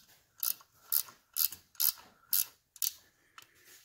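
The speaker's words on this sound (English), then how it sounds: "I got a wrench here I can kind of like start on" A wrench turns a bolt during the restoration of a 1971 Triumph Tiger 650cc motorcycle, giving about seven crisp ratcheting clicks at a steady pace of roughly two per second, quiet and close, with no talking.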